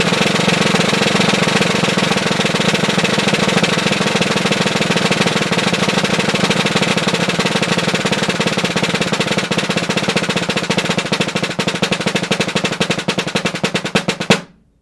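Concert snare drum triplets start fast at around 150 bpm and gradually slow, a dense, loud, continuous roll of sharp strokes whose spacing slowly widens before cutting off at the end.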